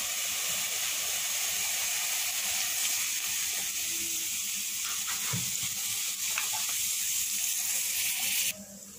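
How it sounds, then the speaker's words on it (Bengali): Chopped onion frying in mustard oil in a pan on a stove, a steady bright sizzle and hiss that holds throughout and cuts off abruptly near the end. "এখানে পেঁয়াজ কুচি দিয়ে দিয়েছি, আর এখন একটু সরিষার তেল দিয়ে দেব।"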